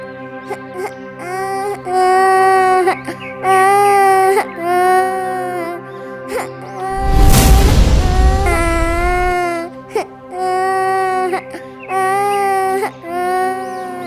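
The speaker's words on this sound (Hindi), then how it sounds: "इस घने जंगल में बच्चे के रोने की आवाज।" An infant wails in repeated, sustained cries with short breaths between, loud and close, broken midway by a burst of broadband rushing noise.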